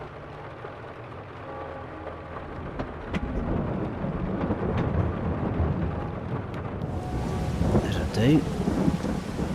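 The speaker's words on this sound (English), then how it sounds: "but it's raining." Rain and rumbling thunder in the Farming Simulator 22 video game on PS5, a steady wash of rainfall with low thunder rolls that swell louder partway through, and someone speaking briefly over it.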